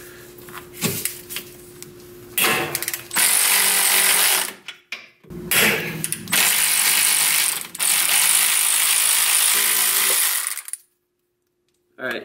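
A ratchet loosens sway bar bolts on a Nissan 350Z, giving loud, close bursts of rapid clicking separated by short pauses and a brief silence near the end.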